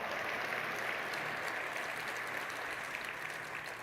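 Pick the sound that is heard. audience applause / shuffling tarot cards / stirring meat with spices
audience applause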